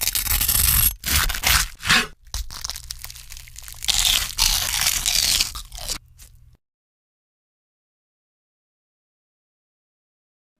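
Deep-fried bacon is bitten and chewed up close, giving loud bursts of crisp crunching and scraping over about six seconds, then silence.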